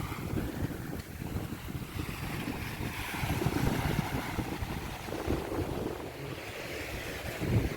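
Sea waves at a shore in the Dominican Republic, a continuous rolling wash of surf mixed with heavy wind buffeting the microphone, swelling slightly in the middle, with no voices.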